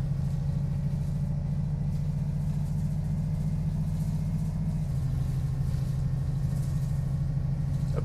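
Setra bus engine pulling under load, a loud low rumbling drone with a steady hum that shifts down slightly partway through, continuous and close with no talk.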